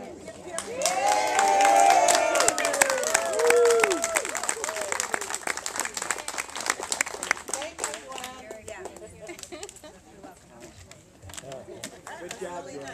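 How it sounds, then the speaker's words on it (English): Party guests at a 100th birthday celebration cheer and whoop, then applaud with a dense clapping that gradually thins out, the crowd close and lively with voices throughout. "So let's cheer her in."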